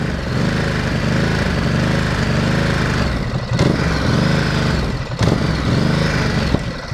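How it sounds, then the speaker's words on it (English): A Ducati Supersport 950S motorcycle parked on its side stand, its engine held at the soft rev limiter near 3000 rpm, gives a loud, steady drone that wavers and pulses throughout, with no voices. "Once I've turned it on, I cannot give you the full exhaust note, but this is the soft limiter."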